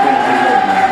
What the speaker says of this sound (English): Edsel Ford's crowd liking that